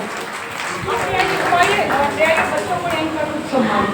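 A crowd at a religious storytelling gathering claps steadily and loudly while someone speaks over the applause through a sound system.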